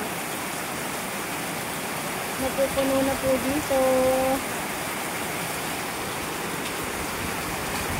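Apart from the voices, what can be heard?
heavy monsoon rain with wind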